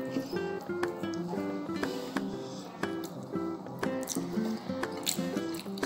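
Water is drunk from a bottle at a meal, with close, wet squishing gulps and drips in an irregular rhythm and a faint voice in the background.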